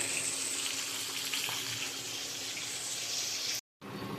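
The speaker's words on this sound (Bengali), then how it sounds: "মাছ ভাজা আমার এখানে হচ্ছে" Fish frying in a pan in a home kitchen, a continuous fine hissing sizzle with no talk, cutting out briefly near the end before resuming.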